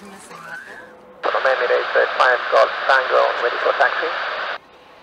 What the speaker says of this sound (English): Some listen to air traffic control on their radios so as not to miss anything.